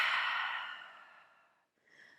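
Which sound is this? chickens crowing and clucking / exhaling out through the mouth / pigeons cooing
exhaling out through the mouth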